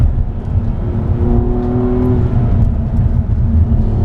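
A BMW M235i xDrive drives on a dry racetrack, its engine a loud, steady drone with a sustained whirring tone and no voices.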